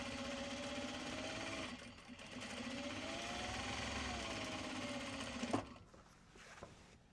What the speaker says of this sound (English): yes, of course we're chain piecing.